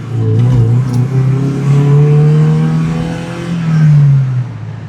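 A car engine revs hard and loud at close range, its pitch climbing and holding in a sustained roar before easing slightly.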